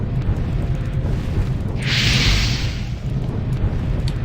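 A fire damage attack lands on a shaman in the video game Gothic, giving a loud rushing, roaring burst of flame about two seconds in over a steady rumble of low game ambience.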